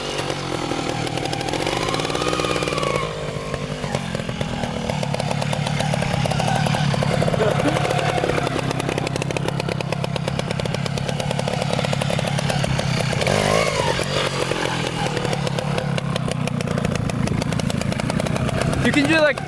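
A Beta 270 two-stroke dirt bike engine runs loud and close, idling and burbling steadily for the whole stretch, with people talking over it.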